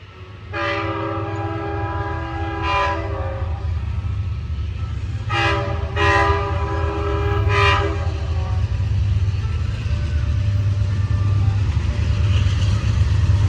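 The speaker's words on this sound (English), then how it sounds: "and here comes the train" A train rumbles past in Auburndale, Florida, while its horn blasts repeatedly, two long calls then a quicker series, over a constant low roar of wheels.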